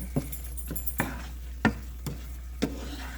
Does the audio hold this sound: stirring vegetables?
yes